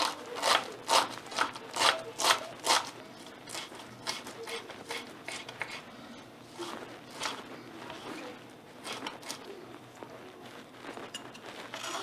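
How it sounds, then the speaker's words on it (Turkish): Knife finely chopping half a bunch of parsley on a cutting board, with rapid, crisp, rhythmic taps that are louder at first and then softer and more scattered. "Bunu ince ince kıyacağım maydanozumu."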